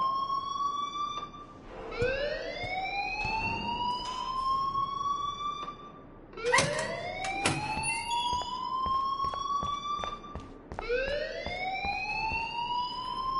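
Alarm blaring in the video game Life is Strange, a loud repeating rising electronic whoop that cycles about every four seconds with no voices over it.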